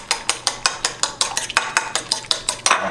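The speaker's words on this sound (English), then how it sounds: "Now I scramble the eggs a little bit more." Eggs whisked in a bowl while making shrimp parmigiana, a quick, steady rhythm of sharp clicking strokes against the bowl, about six per second, close and fairly loud with no talk.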